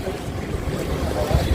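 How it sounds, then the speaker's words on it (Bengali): Steady sea wind buffets the microphone at the beach, a continuous low rumble and rush with faint surf beneath, loud and unbroken throughout. "সমুদ্রের ধারে বাতাস রয়েছে তো"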